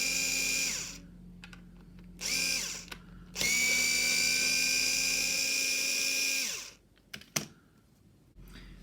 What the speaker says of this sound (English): You just want to screw out those screws.